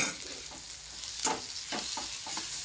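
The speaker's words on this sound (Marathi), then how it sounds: "मस्तपैकी सगळं फ्राय करून घेते" Egg rice frying in a pan, a soft continuous sizzle with a few scraping spatula strokes spaced through it, quiet and close.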